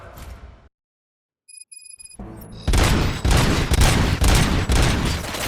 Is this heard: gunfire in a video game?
yes